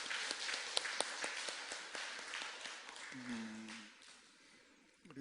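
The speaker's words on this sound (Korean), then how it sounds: "하나님께 영광의 박수 올려드리겠습니다." A congregation claps during a Sunday church service, a steady rhythmic applause that is moderately close, fading out after about four seconds as a voice briefly speaks, with a few claps returning at the end.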